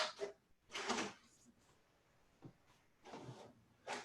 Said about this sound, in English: sorry for the printer if you hear it in the background